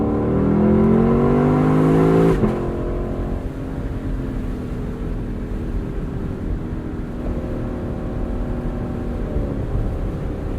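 Lexus LC sports car engine revving hard in sport mode, a loud rising rev climbing toward the limiter then dropping abruptly, settling into a steady lower engine drone that holds up close.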